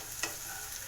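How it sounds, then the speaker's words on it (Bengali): Onions half-frying in oil in a pan for egg bhurji give a soft, steady sizzle with one quick scrape near the start. "তো এটা আমি আধ ভাজা মতো করে নিচ্ছি।"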